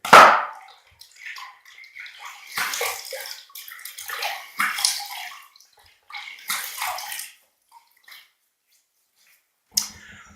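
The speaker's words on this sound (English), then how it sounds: "I'm going to wet my face and I'm going to build a lather with this Palmolive shaving cream." Water splashing from hands cupped at a basin as a face is wetted before a shave with Palmolive shaving cream, several close bursts of splashing separated by brief pauses, then a final short splash.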